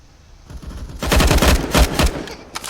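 Rapid automatic gunfire rattles into a wall in Counter-Strike, with a dense, loud burst lasting about a second and a faint follow-up shot after a short pause.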